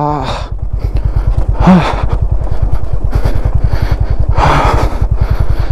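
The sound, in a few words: motorcycle descending a steep mountain road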